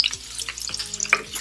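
Onion frying in hot oil in a pan for a spiny gourd dish, a close crackling sizzle broken by a few clinks and scrapes of a spoon.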